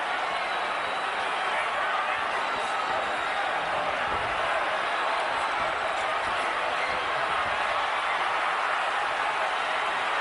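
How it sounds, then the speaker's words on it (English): A boxing arena crowd roars in a constant, dense wash of cheering and noise during the Cotto vs Foreman fight, with a commentator's voice faintly under it. "The crowd is in a fever pitch."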